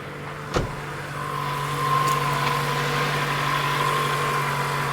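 A freshly rebuilt 2002-2006 Toyota Camry engine idles steadily during initial break-in, a close, even hum with a constant tone. A short sharp knock comes early on.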